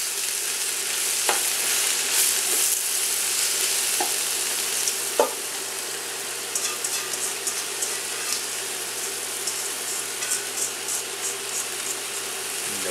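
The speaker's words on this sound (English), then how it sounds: "we're going to wilt down the spinach. You want a big pot for this." Fresh spinach wilting down in a big pot, giving a steady hiss and sizzle with a few stirring clicks and scrapes running throughout, and no talking.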